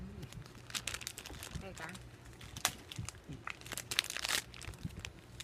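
Plastic blind bag toy package being torn open by hand without scissors, a Littlest Pet Shop collectible, with bursts of crinkling and tearing at close range while a person speaks now and then.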